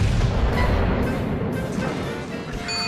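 Naval guns in World of Warships fire in a salvo, heard as heavy, rumbling booms over dense low battle noise that keeps up steadily and loudly for the whole moment.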